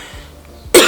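A single short cough bursts out near the end, loud and close after a quiet stretch, from a woman struggling with a lingering cough.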